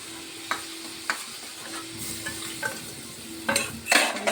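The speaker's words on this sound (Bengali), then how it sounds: "মশলাটা ভালো করে কষিয়ে নেব।" Spice paste (masala) being stirred and fried in a pan, with a steady sizzle under scattered scraping strokes of the spoon against the pan and a louder burst of stirring near the end; no talking.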